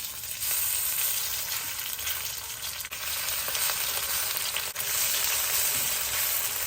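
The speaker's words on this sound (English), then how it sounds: "fry up that marinated flank steak, those pieces, in fairly small batches because I'm trying to get them crispy" Marinated flank steak pieces frying in a small batch of hot oil for crispy beef stir fry, a loud, steady, close sizzle with constant crackle and a few brief dips, no talking.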